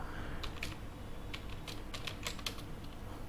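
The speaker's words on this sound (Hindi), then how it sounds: "पर्सनल प्रोफाइल हम लोग यहाँ पे भी टाइप करते हैं" Fingers type on a computer keyboard, quick irregular key clicks in short bursts, close but fairly quiet over a low background hum.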